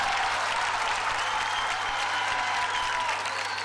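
Loud, sustained audience applause in a televised singing talent show studio, thick continuous clapping and crowd noise filling the room without a break.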